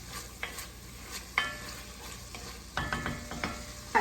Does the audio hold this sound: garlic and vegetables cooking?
yes